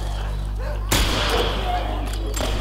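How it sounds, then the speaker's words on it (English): A single sharp, loud rifle shot from The Last of Us, cracking once about a second in and leaving a sustained ringing tail, over a steady low game background hum. "Damn, this rifle's strong."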